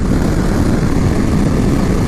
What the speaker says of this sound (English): Roll on acceleration in 6th gear.